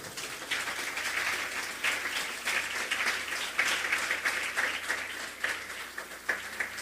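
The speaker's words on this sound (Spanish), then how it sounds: "Dale un aplauso al Señor." A church congregation applauds during a sermon, steady dense clapping sustained for several seconds, loud and continuous with no talk.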